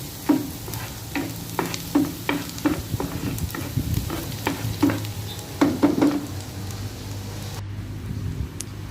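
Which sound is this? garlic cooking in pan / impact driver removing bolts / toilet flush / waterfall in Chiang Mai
garlic cooking in pan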